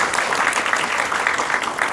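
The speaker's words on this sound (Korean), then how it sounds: "먼저 총리님께 큰 환영의 박수를 부탁드리겠습니다" Applause welcoming the prime minister at a formal event, a brief, dense wash of clapping from a large audience, loud and continuous.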